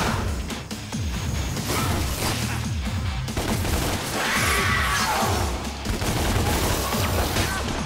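Gunfire in the action video game Devil May Cry, dense bursts of shots layered with mechanical clanks and crashing impacts, loud and continuous throughout amid busy game sound.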